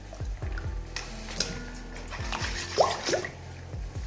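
Gram flour being stirred into buttermilk for majjiga pulusu, a soft close liquid swishing with light rhythmic taps and clinks of a spoon against the bowl, punctuated by a couple of small wet splashes.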